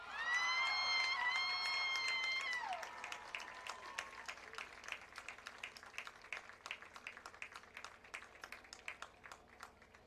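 An audience at a high school homecoming football game applauds the homecoming queen, a sustained tone fading after a few seconds as steady clapping continues and slowly thins out.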